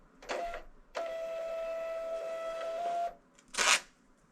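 A thermal label printer runs out a shipping label in a steady whirring feed of about two seconds, with a short mechanical burst just before it and a crisp tear or cutter sound afterward.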